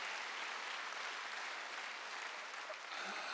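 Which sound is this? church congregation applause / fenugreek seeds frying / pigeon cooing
church congregation applause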